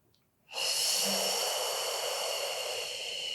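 A long, steady breath during a beginner Pilates posture exercise, a sustained close airy hiss starting abruptly after a short quiet pause and holding evenly for about three seconds.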